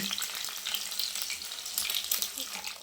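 Ukoy shrimp fritters fry in hot cooking oil with a steady, close crackling sizzle full of bright popping bursts, continuous and alone without talk.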